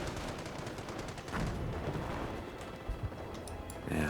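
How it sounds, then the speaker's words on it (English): Machine gun fire in the Company of Heroes World War II strategy game crackles in dense bursts, with sharper individual shots and distant explosions punctuating a continuous battle din, no voices over it. "all these machine guns"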